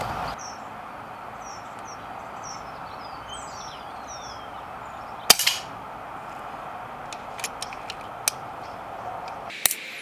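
An FX Impact Smooth Twist X air rifle is fired in a test series: sparse, sharp, brief cracks and clicks, one louder shot midway and a few lighter snaps later, over a steady outdoor hiss with distant birdsong.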